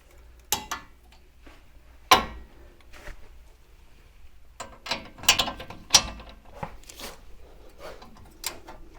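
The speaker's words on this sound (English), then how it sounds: "so can torque those up to 70 foot-pounds, which I'm going to do right now" Ratcheting torque wrench tightening front suspension bolts on a C3 Corvette, heard as close, irregular bursts of sharp mechanical clicks separated by short pauses, with no talk.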